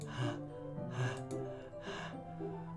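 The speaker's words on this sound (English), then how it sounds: "It sounds like breathing." A heavy breathing sound in Doki Doki Literature Club, a few slow, rhythmic breathy inhales and exhales repeating about once per second, quiet and close, over a soft sustained tonal background.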